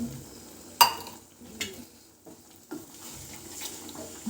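A spoon stirs soft tomato paste just thinned with water for an egg masala gravy, giving a low wet churning under faint sizzling, with a sharp clink near the start and a few softer knocks after.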